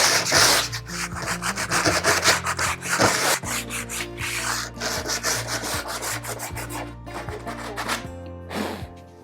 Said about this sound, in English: now that it's cut, sand on the edge so it's smooth